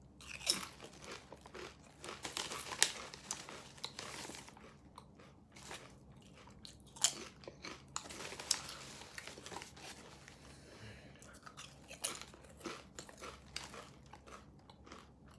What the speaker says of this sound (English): these delightful Shamrock flavored potato chips